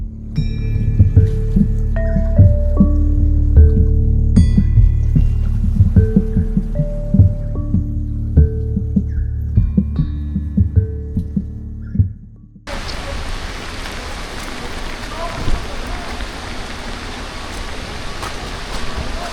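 Music plays, then cuts to a dense, steady patter of hail falling on an island in the Azores, loud and continuous with no talk.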